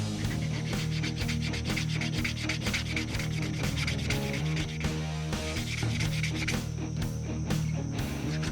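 Rhythmic rubbing strokes of a leather slicker burnishing the edges of a leather leg sheath for a short sword, close and steady, continuing without pause and with no talk over them.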